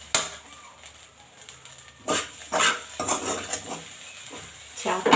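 Fried fish roe being stirred in a pan, with intermittent scraping and metallic clinks of a utensil against the pan over a soft sizzle, louder bursts toward the end.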